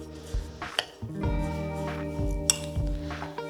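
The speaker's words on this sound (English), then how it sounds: "And now we're just gonna stir this together." A spoon clinks and scrapes against a bowl while cream cheese, sugar and vanilla extract are stirred together, giving a few sharp taps over a muffled, ringing undertone.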